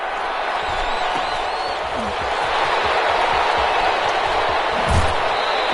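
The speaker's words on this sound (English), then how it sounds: "How about some applause for the defense there?" A broad wash of crowd applause and cheering in a PS4 American football game fills the space, steady and continuous, with a few scattered thumps underneath.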